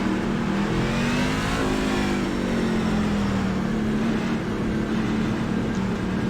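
A race car engine in the iRacing video game at Martinsville runs at full throttle with a loud, steady drone, its pitch dipping slightly and then holding level, with no voice over it.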